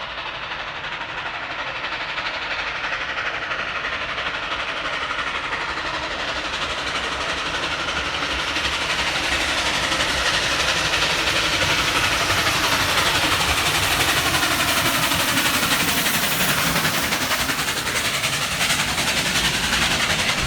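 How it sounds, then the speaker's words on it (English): Locomotive 4836 hauls a picnic train through Carlton in the Illawarra, a loud continuous roar of engine and rolling wheels with light clickety-clack, swelling as it draws nearer. "Here the locomotive is seen passing through Carlton."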